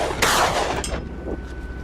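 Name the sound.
hunting rifle shots at wild boar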